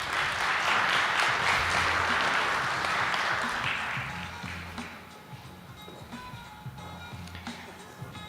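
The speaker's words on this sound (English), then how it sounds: "can we give him a round of applause" A conference audience at a faculty research day breaks into sustained applause for a panelist, loud and dense for about four seconds before thinning into scattered claps and murmur.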